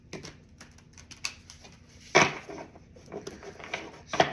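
Tarot cards being shuffled up close, with soft, irregular riffling and patting and a louder burst of card flicks midway, with no talk.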